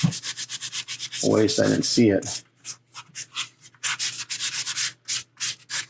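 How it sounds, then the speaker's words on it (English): Short rhythmic rasping strokes of sandpaper on a hard resin model part, close up, with a brief spoken phrase near the start interrupting the scrubbing. "So sanding this part should go fairly quick"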